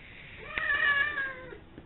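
An older house cat gives one drawn-out, tonal meow that rises and then fades, heard alone against a quiet background.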